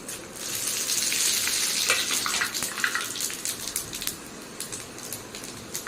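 Whole bay leaf, dried red chilli, five-spice (panch phoron) with extra radhuni, and cumin seeds sizzle steadily in hot oil in a wok, a close, continuous crackling hiss with brief spits and pops and no talk.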